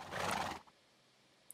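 A summoned horse in Minecraft gives one short, bright whinny lasting about half a second, close and clear, followed by near silence.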